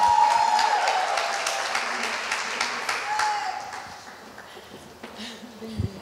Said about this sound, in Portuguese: Vamos aplaudir a Jesus pela vida dela.